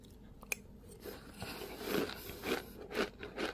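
A crunchy, inexpensive corn snack being crushed in a sesame-grinding mortar, a steady rough crackling and scraping that swells in rhythmic grinding strokes, close and moderately loud, with no voices.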